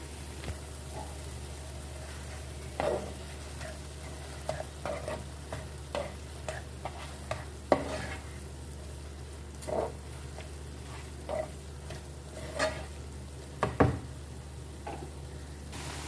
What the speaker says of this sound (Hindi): तीन से 4 मिनट इसको हम ऑयल के साथ अच्छे से भून लेते हैं